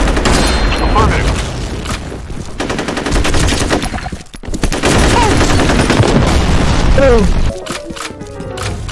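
A grenade explodes in the multiplayer shooter F.E.A.R. Combat, amid a dense, continuous mix of loud gunfire and booms, with a short lull before the blasts resume.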